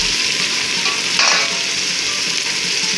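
Apple gourd curry garnished with coriander and green chili is stirred in a pan, a steady close sizzle with a brief scraping swish of the spoon partway through, no voices.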